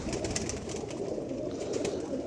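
A pigeon coos softly while held in hand for vaccination, a low steady murmuring coo running continuously under faint background noise.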